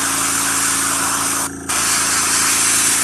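Steady airbrush hiss spraying paint onto a tabletop miniature, a continuous close airy rush with a low compressor hum beneath, broken by one brief pause mid-way before resuming.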